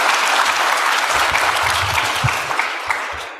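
An audience claps loudly and evenly for a few seconds, a dense close burst of applause that tapers slightly at the end.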